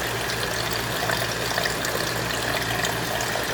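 Tap water runs steadily while a luffa sponge is soaked, a continuous close rushing and splashing with no voices.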